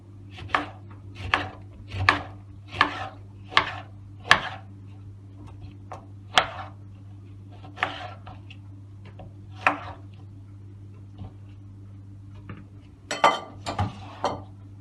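A knife chops lemons for lemonade on a cutting board with steady, evenly spaced knocks, over a low constant hum, ending in a quicker flurry of cuts.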